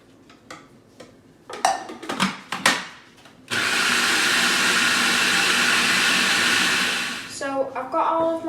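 A food processor blitzes biscuit crumbs with melted butter in a steady, loud whirring roar lasting about four seconds. Clattering handling noises and knocks come before it, and more knocks follow after it.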